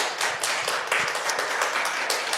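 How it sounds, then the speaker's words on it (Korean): A church lecture audience claps in thanks to a pastor, dense and continuous applause from many people filling the room at an even level throughout, with no one speaking. "다시 한번 감사의 박수"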